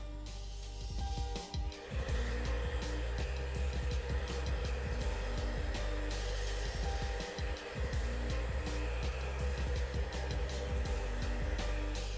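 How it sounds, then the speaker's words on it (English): Steady, loud whooshing roar of a hair dryer running continuously over mid-length hair styled with grooming cream, broad and airy, with faint clicks and handling noises over it. "Now I'm going to just lightly put the blow dryer over the top"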